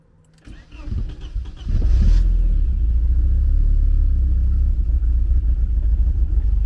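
A Porsche 924 from an abandoned car, engine cranking and trying to start: a short faint mechanical lead-in, then a loud steady rumbling drone that holds close and even to the end.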